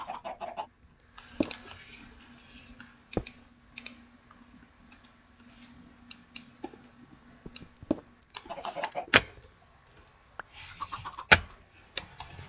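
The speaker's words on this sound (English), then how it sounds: "Should be a baby chicken now." Minecraft chickens clucking in a survival game: scattered short clucks and clicky pops, some in quick clusters, separated by quiet stretches with a faint steady hum.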